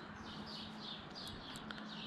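Many birds chirp and tweet in a town early in the morning, with overlapping calls at moderate distance over a steady low background hum.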